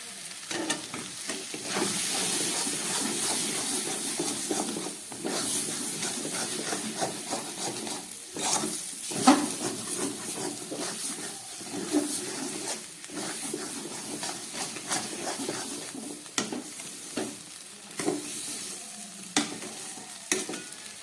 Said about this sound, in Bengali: প্রায় তিন চার মিনিট কষিয়ে একদম শুকনো হয়ে গেছে থোর ঘন্টটা